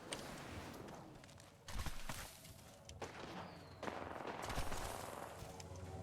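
Rapid gunfire crackles through a multiplayer shooter video game, sustained bursts with thudding impacts at moderate distance, fairly quiet overall and without clear talk in the moment.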